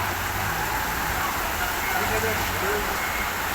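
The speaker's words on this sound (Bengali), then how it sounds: "দেখেন ঝড় বৃষ্টি হচ্ছে" Heavy morning rainstorm pours down in a dense, steady hiss that stays even and loud throughout, with no break.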